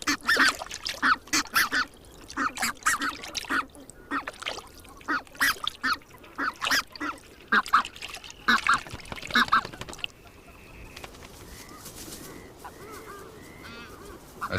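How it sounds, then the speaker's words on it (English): A flock of red-breasted geese on the Russian tundra calls in rapid, repeated honks and yelps, fairly close, then quiets to softer, scattered calls toward the end. "Nearly all the red-breasted geese in the world breed on the Russian tundra."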